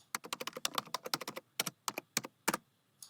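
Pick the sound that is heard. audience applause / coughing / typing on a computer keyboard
typing on a computer keyboard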